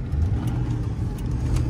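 Inside a moving 2003 Mercury Marauder, its 32-valve V8 hums low and continuously as the car downshifts, a steady close drone with light road noise and no voices.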